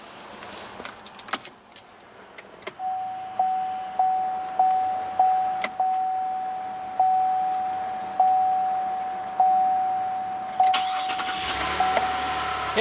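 Inside a 2016 GMC Canyon, keys jangle and a steady chime beeps repeatedly before the 3.6 liter V6 engine cranks and starts near the end, close by with no talking.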